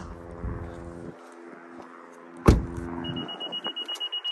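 Seatbelt warning chime in a 2022 Honda Insight Hybrid, a thin high tone that begins near the end and repeats in quick regular pulses after a sharp thump, over a faint cabin hum.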